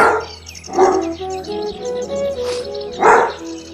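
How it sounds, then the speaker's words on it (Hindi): An Alsatian dog barks loudly and close by, three sharp barks spaced about a second apart, with faint birds chirping in the background. "अल्सेशियन कुत्ता जोर जोर से भौंक रहा था।"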